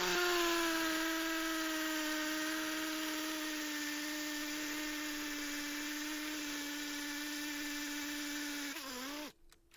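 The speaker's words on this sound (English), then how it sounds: "Let's test out the hammer mode, which is really meant for small stuff on this sort of drill." A Parkside Performance 12V drill runs in hammer mode with a 6mm bit, giving a close, steady motor whine with a buzzing hammer rattle that holds level, then dips and stops abruptly near the end.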